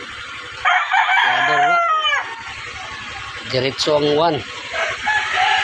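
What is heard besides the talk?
roosters crowing on a farm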